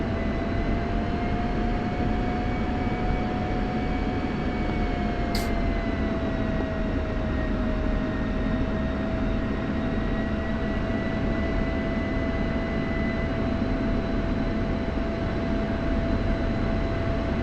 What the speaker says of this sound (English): We're taxiing over to runway 22 at Hate.